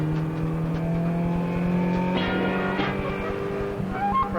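Race car in second gear at Mondello Park, heard from inside: a steady, loud engine drone with strong harmonics that climb as it accelerates, with a brief shift in pitch near the end.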